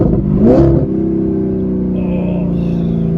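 Straight-piped Audi R8 engine gives one loud, close rev surge that drops back to a steady, droning idle with rumbling exhaust, no talking over it.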